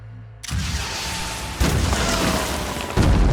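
Rockets slamming into an armored enemy in the tactics game Phoenix Point: three heavy, booming explosions, each a sudden loud blast followed by sustained rumbling debris that carries into the next hit.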